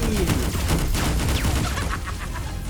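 Rapid bursts of gunfire from an animated cartoon crackle in a dense, loud volley over other soundtrack noise.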